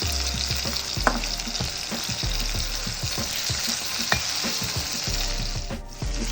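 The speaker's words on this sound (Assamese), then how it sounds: "কঁঠালখিনি এই তেলত সিজিব লাগিব।" Jackfruit pieces frying in hot oil for a homemade curry, a continuous close sizzle with crackling pops and occasional stirring clinks, steady and fairly loud, with no talking.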